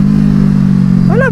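A 2017 Kawasaki Z650 A2 motorcycle's parallel-twin engine holds a loud, steady close-up drone, rising in pitch right at the end as a brief voice cuts in.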